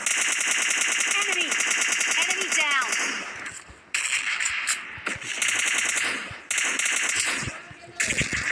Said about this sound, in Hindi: भाई गन साउंड किधर से आ रहा था?